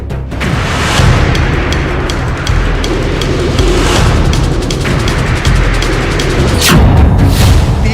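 A bomb blast in Bhagalpur, a loud, sustained roar with a few sharp bursts, close and harsh, with no talking.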